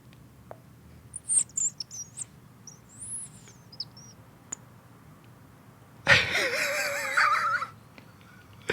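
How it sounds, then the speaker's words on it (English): Small bird chirps, thin and high, come in scattered short calls over a quiet room, followed by a louder burst of mixed noise near the end; no one talks. "I heard a bird."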